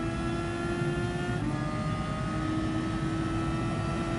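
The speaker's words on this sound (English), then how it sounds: "You can hear the wind noise there from the internal cockpit view." Steady broadband rush of wind over a constant engine drone inside a racing car cockpit in a racing video game, loud and unbroken throughout.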